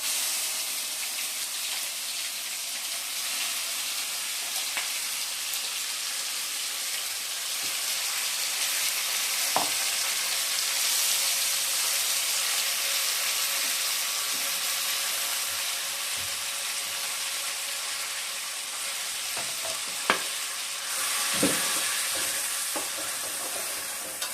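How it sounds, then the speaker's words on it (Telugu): Onion paste with mustard seeds and cumin frying in a pan for egg curry, giving a steady soft sizzle with occasional light scrapes and clinks of stirring, fairly quiet throughout. "ఆవాలు చేసుకొని మనం ముందుగా రెడీ చేసి పెట్టుకున్న ఆనియన్ పేస్ట్ ఉంది కదా ఇది కూడా యాడ్ చేసుకోవాలి"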